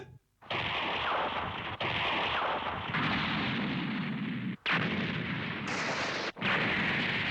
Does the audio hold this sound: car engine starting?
no